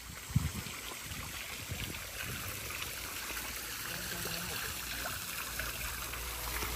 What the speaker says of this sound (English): the ball is going up based on the pressure of the water fountain